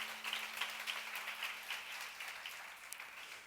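Audience clapping in a church during a Bible lecture, a steady patter of many hands at moderate distance, fairly faint and sustained throughout without speech.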